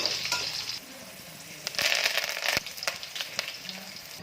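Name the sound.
garlic frying in oil for puri seasoning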